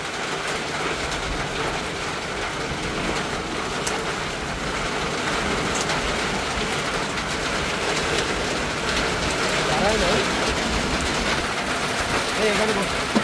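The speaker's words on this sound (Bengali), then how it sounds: "একদম মুষলধারে বৃষ্টি শুরু হয়ে গেল, খুবই সুন্দর।" Heavy monsoon downpour in Bangladesh, the first rain of 2025, a steady dense broadband hiss of rain on surfaces that swells slightly toward the end, with a faint rumble and clatter beneath.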